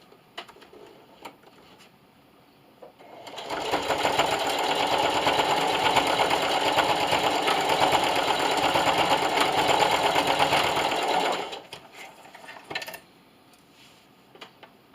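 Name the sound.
sewing machine back-stitching lanyard clasp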